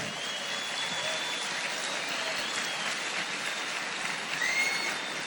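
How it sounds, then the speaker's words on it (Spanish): A church congregation at a June conference applauds during preaching, a steady, dense clatter of hands holding at an even level throughout. "puede aplaudir al Señor"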